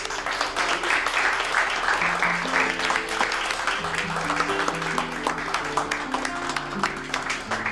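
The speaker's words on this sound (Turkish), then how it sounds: "Lütfen arkadaşımızı alkışlayalım." A class applauds a classmate in a sustained burst of many hands clapping together, steady and fairly loud, while soft music plays underneath.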